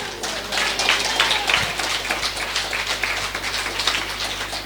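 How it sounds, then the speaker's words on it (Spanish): A crowd claps steadily at a church gathering, a dense patter of hands continuing without pause at moderate volume, with faint voices mixed in. "Un fuerte aplauso a esa iglesia de Cristo."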